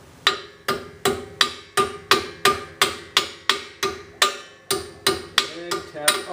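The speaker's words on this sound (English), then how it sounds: "I'm just going to take my hammer" Sharp metallic hammer taps knocking brake caliper slides loose on a Jeep Grand Cherokee during a brake change, about fifteen evenly spaced ringing blows in a steady rhythm, close and loud.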